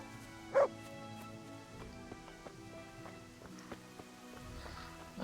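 In the video game Kingdom Come: Deliverance, a dog following the player lets out a single sharp bark, brief and fairly close, over quiet in-game ambience with faint tonal sounds and patter.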